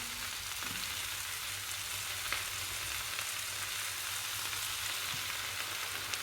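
Peppers and onions fry in a pan with a steady, loud sizzle, broken by a few faint stirring knocks, with no voices.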